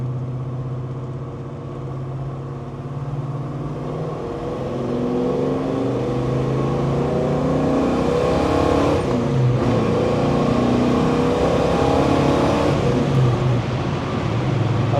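A 1970 Chevelle SS restomod with a 502 cubic-inch V8 accelerating through its gears, a loud, deep engine roar that climbs in pitch, drops at each shift and builds again toward fifth gear.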